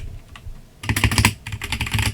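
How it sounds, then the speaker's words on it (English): Rapid clicking keystrokes on a mechanical keyboard, quiet at first and then a dense, loud burst of clacking with no voices. "If I have to type on my keyboard, it's a mechanical keyboard."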